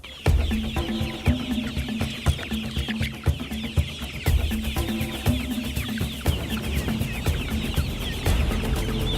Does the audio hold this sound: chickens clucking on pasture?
yes